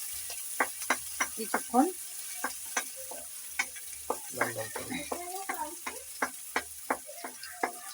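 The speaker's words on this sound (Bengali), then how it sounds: "এবার আমি এটাকে একটু ভেজে নেব" Potato fritters (aloo bora) frying in hot oil, a dense crackling sizzle with sharp repeated pops and ticks throughout, fairly close, with a brief spoken word over it.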